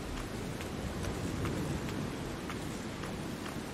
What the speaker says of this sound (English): I think it's raining even harder now.